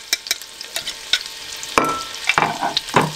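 Onions and garlic fry in heated butter and oil, a close sizzle broken by sharp clacks and scraping as the pan is stirred.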